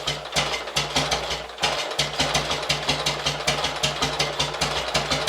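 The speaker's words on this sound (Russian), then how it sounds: "Подхватывает с полоборота, выходит на стабильный устойчивый холостой." An M-62 motorcycle engine, freshly tuned with carburettors synchronised, catches quickly and settles into a steady idle, its close, loud, even exhaust beat pulsing rhythmically throughout with a brief stumble near the start.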